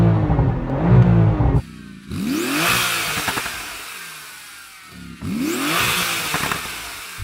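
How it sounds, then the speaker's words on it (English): A Porsche engine revs up in loud bursts, roaring and falling twice with a pause between, close and dominant, no voices. "Is that revving up? Is it revving up?"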